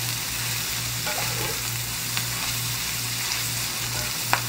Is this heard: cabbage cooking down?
yes